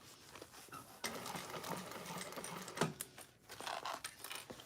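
A sewing machine runs in rapid, close bursts while stitching the bottom seams of a handbag, with brief pauses and small clicks between runs and no talk over the whirring.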